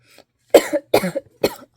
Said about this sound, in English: hopefully my cough can go away